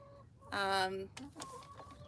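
A hen gives a loud drawn-out squawk followed by softer clucks, up close in a quiet evening setting.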